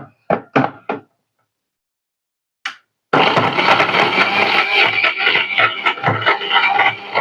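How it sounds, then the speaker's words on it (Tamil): A kitchen mixer grinder grinds tamarind masala. A few knocks and thuds come first, then the motor starts into a loud, steady, close whirring grind. "அதுக்குள்ள இது கொஞ்சம் அரைப்படட்டும்."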